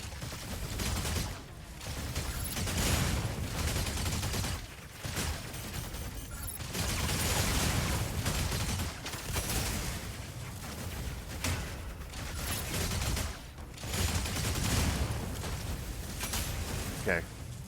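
Bursts of rapid mech gunfire in the video game Mechabreak come in repeated dense volleys separated by short pauses, loud and crackling, with a player talking over them.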